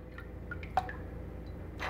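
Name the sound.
bottle caps dropped into sanitizer water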